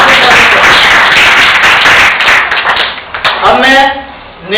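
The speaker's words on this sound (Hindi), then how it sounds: "उनका भी जोरदार तालियों से आपको स्वागत करें" Audience applause welcoming the chairman at a youth recitation competition, loud dense clapping that fades out toward the end as a voice begins speaking.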